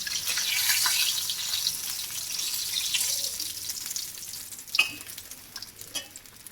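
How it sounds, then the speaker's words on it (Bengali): Fish heads fry in hot oil, giving a loud, continuous crackling sizzle that eases slightly partway, then breaks into a few sharp spits and pops near the end. "আমাদের মাছের মাথা ভাজছি"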